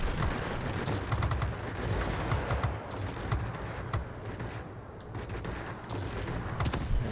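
Rapid cannon fire from a Me 209A fighter in a World of Warplanes air battle, a dense, continuous rattling burst of shots that runs the whole time, loud and close with only brief dips in intensity.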